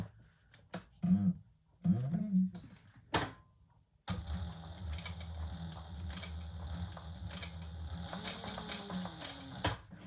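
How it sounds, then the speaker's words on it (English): Leather for a sling bag is handled with a few soft knocks, then a sewing machine starts and stitches steadily in a continuous mechanical whir close by. "And then we're going to sew that on."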